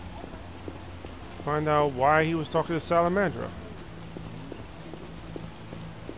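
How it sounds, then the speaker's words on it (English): Steady rain pours in The Witcher video game, a constant hiss and patter that runs through the whole scene while a voice talks over the middle stretch. "Damn, it just started to pour out of nowhere."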